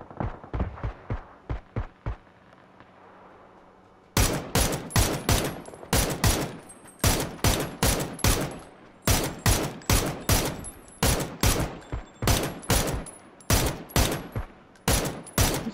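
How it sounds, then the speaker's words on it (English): Rapid bursts of automatic gunfire from a Vector and MK12 in the battle royale game PUBG, played on PS5. Several quick volleys sound first, then after a short gap come loud, dense, repeated bursts with brief pauses between them, with no talk. "I'm fucking shooting a dead body"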